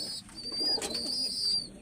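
A young Pakistani pigeon coos softly and steadily alongside high, thin chirping from other birds, with no voices present.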